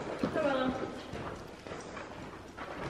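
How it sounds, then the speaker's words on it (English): A horse is led out to pasture, its hooves clip-clopping steadily and fairly close by, while people talk over them throughout. "I'm going out, taking my horse out."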